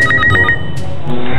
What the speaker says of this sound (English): Mynah bird.